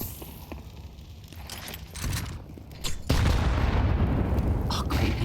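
Grenades going off in a Counter-Strike esports match, a loud rumbling burst that swells after a few seconds of scattered gunfire and footsteps, heard alone without commentary.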